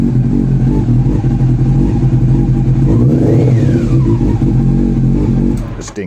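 A Honda CB400 Super Four four-cylinder motorcycle engine running from a cold start, a loud, steady close-up idle hum with a brief rising rev in the middle, then easing slightly near the end.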